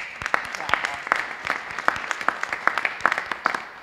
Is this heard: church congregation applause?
yes